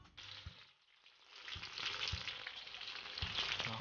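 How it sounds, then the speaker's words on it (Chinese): Pufferfish liver stir-frying in a hot wok gives a bright, continuous sizzle that swells after a short dip, with a few low thuds from the pan. "先把河豚肝放入锅中煸炒"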